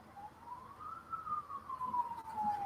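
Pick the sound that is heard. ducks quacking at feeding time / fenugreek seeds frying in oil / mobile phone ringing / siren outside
siren outside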